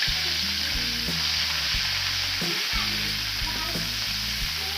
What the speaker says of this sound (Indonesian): Kita tumis ya, kita tumis bumbunya ya.